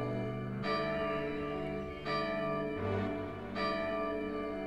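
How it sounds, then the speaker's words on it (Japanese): A deep bell in the video game Lost Heroes 2 clangs three times in slow succession, each strike ringing out with rich overtones that linger before the next. "ヒーローたちはウルトラベルを鳴らした。"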